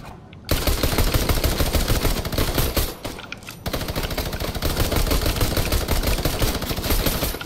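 Rapid automatic gunfire from the video game Fortnite Battle Royale rattles on loud and close in dense bursts, cutting out twice for brief moments before resuming.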